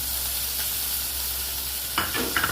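Ginger paste and green chillies hit frying onions in a hot pan, a constant close sizzle that jumps louder near the end as the mix is stirred.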